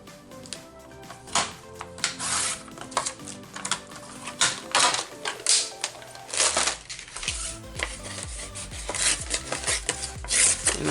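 Scrap paper being cut to size for a junk journal, a close, busy run of rasping, scratchy cutting and rustling strokes that continues almost without pause, with no talking.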